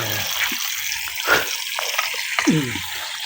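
Cold water runs and splashes steadily nearby, with occasional drips and small knocks as a fish is cleaned under it.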